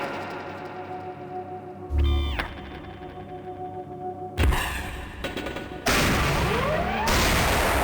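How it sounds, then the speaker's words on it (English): Cluster bomb blasts from the Gunman Chronicles video game hit a hologram target. A thump and a few sharp detonations build into a loud, sustained burst of explosions, with no voices. "set the payload to cluster bomb and throw it at the next hologram target"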